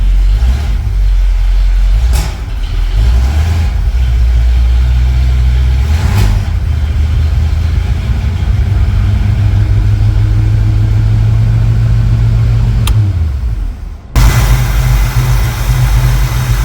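An older car engine cranks briefly, then settles into a steady, smooth idle with a low rumble, cutting out near the end and quickly restarting.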